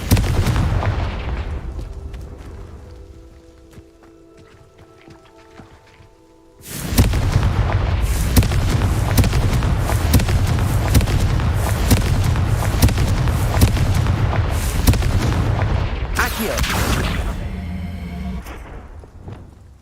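Fire-blast spell explosions erupt in the Hogwarts Legacy video game, a quieter lull giving way to a loud, dense barrage of booming bursts that continues for most of the stretch, with faint voices underneath.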